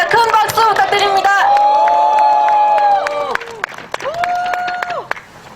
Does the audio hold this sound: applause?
yes